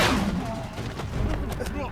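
Sci-fi blaster fire from the Obi-Wan Kenobi series, rapid loud zaps in a continuous burst, mixed with a busy action soundtrack and faint talk.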